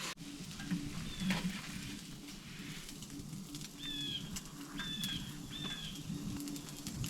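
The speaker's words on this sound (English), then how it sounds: "So we gotta get the bagels toasted, so spin the pan around." Bagels toasting in a pan on a hot tent stove give a soft, steady sizzle, with a few short bird chirps rising over it in the second half.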